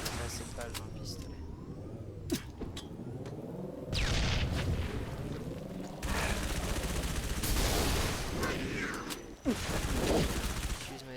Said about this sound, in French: J'utilise ma SMG parce que j'ai trop peu de balles.